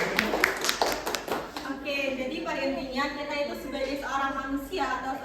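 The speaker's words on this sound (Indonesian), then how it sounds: "Tepuk tangan untuk kelompok Bapak Jokowi." A classroom group claps together briefly in the opening second and a half, the sharp hand claps loud and close, before a teacher carries on talking over the room for the rest.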